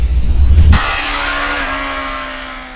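A 2013 Kawasaki Z800 motorcycle engine roars close and loud, then the rising note sweeps past and fades into a high, sustained whine as the bike accelerates away.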